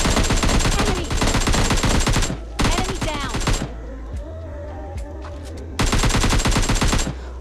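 Gunfire in PUBG Mobile Lite, loud close bursts of rapid automatic shots in three volleys separated by brief quieter gaps with softer game sounds.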